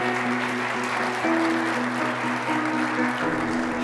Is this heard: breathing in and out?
no